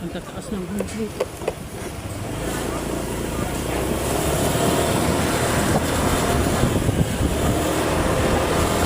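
Strong wind buffets the microphone on a moving motorcycle, a loud low roar that builds after a couple of seconds and stays heavy, with a voice talking briefly at the start.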